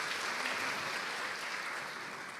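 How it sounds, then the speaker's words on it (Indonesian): A church congregation applauds in a dense, sustained burst of clapping that slowly fades. "Kasih tepuk tangan yang meriah buat Tuhan"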